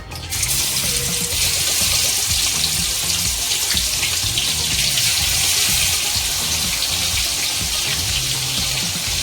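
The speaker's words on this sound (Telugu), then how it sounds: "ఇందులోకి మనం మ్యారినేట్ చేసి పెట్టుకున్న చికెన్ వేసుకుందాం." Marinated chicken for a spicy chicken fry hits hot oil and sizzles loudly, with a dense, steady hiss that lasts the whole stretch and has no talking.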